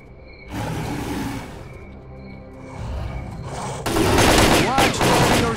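Gunfire in the video game S.T.A.L.K.E.R. Call of Pripyat, loud rapid automatic bursts that build and grow denser toward the end, with a voice briefly underneath.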